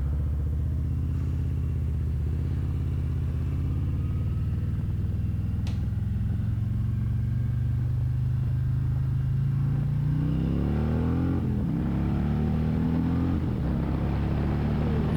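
A 2021 Harley-Davidson Road Glide Special FLTRXS motorcycle rolling on in first gear, a steady deep engine rumble that climbs in pitch toward the end, with wind noise and no talking.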